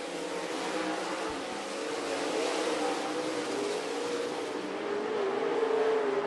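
Dirt track race cars roar around the oval in a heat race, a steady engine drone with a rising, continuous pitch and no voices.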